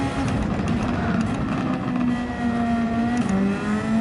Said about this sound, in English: Look how much better the car accelerates in third.